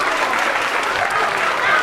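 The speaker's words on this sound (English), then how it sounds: "And give her a round of applause." Children in a library program give a short burst of lively clapping for a girl holding a corn snake, brief and fairly loud.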